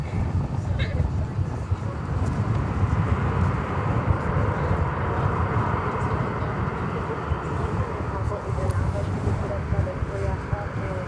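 A Mesa regional airliner flying for United roars steadily at DFW Airport, a loud sustained engine rumble filling the whole stretch without a break.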